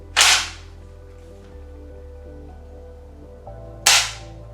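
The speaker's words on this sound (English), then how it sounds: "I don't like dry firing these, but I had to try the trigger." Two sharp metallic clicks from dry firing an Italian M1 Garand rifle's trigger, a few seconds apart, close and crisp in an otherwise quiet room with a faint low hum.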